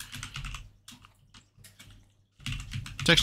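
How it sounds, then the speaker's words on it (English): Computer keyboard typing while entering a texture name into a shader material editor, with bursts of quick clicky keystrokes separated by pauses, growing louder and denser toward the end. "you're going to type in, let's type, it was texture"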